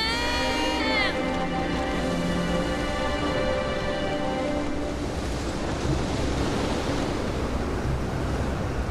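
Strong wind blows as a steady, loud broadband roar throughout, with a brief tonal chime in the first second.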